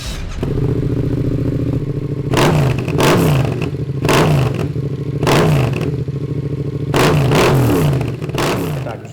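Yamaha MT-07 Special Edition motorcycle with its twin-cylinder engine, loud and close, idling steadily then blipped into sharp revs four or five times, each rising and falling back within about a second.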